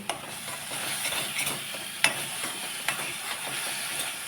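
Broad bean curry frying in a pan as turmeric is added, a steady close sizzle with light stirring scrapes and a few sharp clinks of a spoon against the pan, with no voices.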